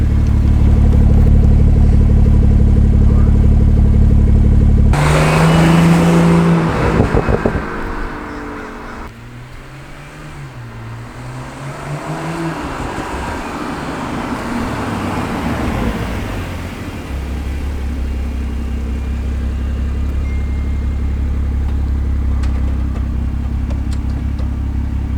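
A BMW 340i (F30) with a Remus axle-back exhaust revs loudly: a deep, steady idle drone, then a sharp rising rev and a falling, burbling settle back to a strong idle, heard close.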